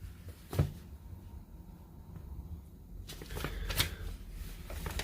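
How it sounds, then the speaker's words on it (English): Paper rustles and a sharp flip as a page turns, then more crisp paper handling and another turn, close by over a quiet background. "turning the page"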